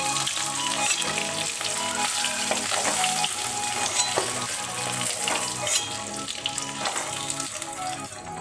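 Small rohu fish fry in oil with a loud, close, continuous crackle full of rapid popping, like heavy rain on a surface, steady throughout.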